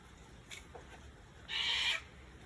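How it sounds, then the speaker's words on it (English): A cockatoo or galah squawks once in a loud, harsh burst lasting about half a second, with faint bird chirps and ambient rustle before it. "That was a cockatoo or a galah just carrying on then"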